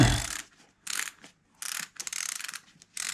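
DC Judge 2025 snowboard boot dial lacing being cranked tight, several short bursts of rapid ratcheting clicks separated by brief silences, close and clear.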